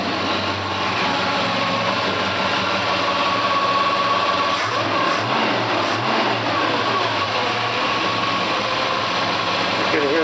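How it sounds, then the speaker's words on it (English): Vintage Air AC compressor running in a 1964 Chevy C10, heard as a steady, loud mechanical drone over the engine's idle hum, continuous for the whole stretch. "So you can hear the compressors on."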